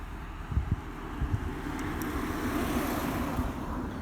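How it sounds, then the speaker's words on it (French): A car passes on the road nearby, a broad, soft rumble that swells gently and fades, with wind buffeting the microphone and no talk. "Il y a une voiture, une autre."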